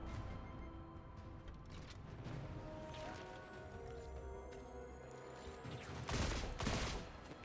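Quiet, dense gunfire in Destiny 2 rattles through a busy game mix, bursts layered over hums and effects, with a louder flurry near the end.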